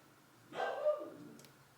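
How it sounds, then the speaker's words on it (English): A pet dog sitting at a house window barks in a short burst, heard indoors at moderate distance, a single rough outburst trailing off over a quiet room. "my dog is sitting in the window right now and she is just barking up a storm"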